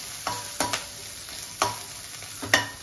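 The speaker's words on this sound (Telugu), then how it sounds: "ఈ పచ్చిమిర్చి ఇట్లా ఫ్రై చేసుకుంటే" Green chillies and chopped garlic frying in hot oil for restaurant-style Chicken 65, a soft steady sizzle broken by four or five sharp scraping stirs of a spatula in the pan, close and alone.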